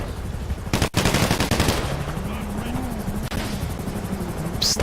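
Police gunfire in a GTA 5 roleplay game: rapid, dense bursts of shots that carry on steadily through the clip, with a radio-style voice talking over them.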